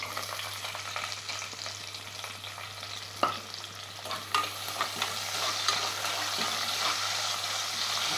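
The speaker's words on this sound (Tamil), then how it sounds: "வெங்காயம் போட்டு கொஞ்சம் ஃப்ரை பண்ணோடனே" Onions frying in oil with cardamom, cloves, cinnamon and bay leaf inside a pressure cooker for mutton bone salna: a close sizzle with stirring scrapes and a sharp clatter near the middle, building to steady crackling.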